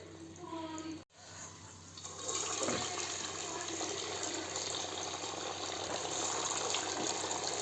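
Sabudana vadas dropped into hot oil, a sudden loud steady sizzle that starts after a brief splash and continues evenly, with someone speaking over the frying.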